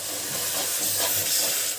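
Steady hot sizzle of a tempering poured into a Chhattisgarhi-style egg curry, a continuous dense crackling hiss at close range with no talk over it.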